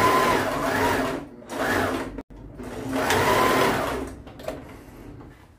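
A domestic sewing machine stitches knit trousers in three loud, close runs of rapid whirring, separated by brief pauses and a sharp stop.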